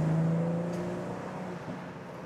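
A BMW M440i or Audi S5 convertible in Sport Plus mode pulls hard, its engine drone strong at first and then easing slightly as it climbs, heard from inside the car without speech.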